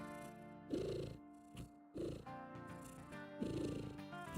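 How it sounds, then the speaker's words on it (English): A cat purrs loudly and close by in a rhythmic rumble, each breath cycle swelling and fading across several seconds, with no talking over it. "Hear those purrs?"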